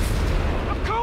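Bombing and artillery fire in Company of Heroes 3, a dense, loud, continuous rumble of blasts with a faint whistling tone near the end, and no clear gaps.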